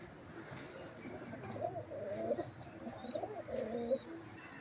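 Pigeons kept as breeding pairs, a pure white bird among them, give a run of soft, close, throaty coos in repeated rolling phrases, with a few faint chirps in the background.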